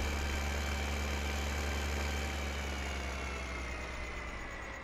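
Engine of an old Zetor Forterra tractor idling in the video game Farming Simulator 2015, a steady low rumble held at an even level throughout with no talk over it.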